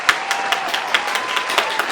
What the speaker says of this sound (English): Please give a round of applause for K Dizzy